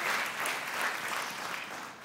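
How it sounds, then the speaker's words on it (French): Sustained applause from a church congregation honouring mothers, a dense steady wash of clapping heard alone, fairly loud and even throughout. "ça mérite aujourd'hui qu'on leur fasse une réelle ovation et pas juste un petit applaudissement"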